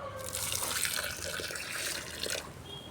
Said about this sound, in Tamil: இந்த ரோஸ் செடிக்கு ஊற்றுறோம்